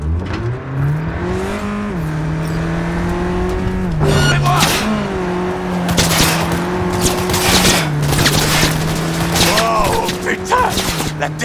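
Car chase through Night City in Cyberpunk 2077 with police in pursuit: a steady engine drone shifting pitch as the car accelerates, with sharp bursts that could be gunfire or impacts, and some voices underneath.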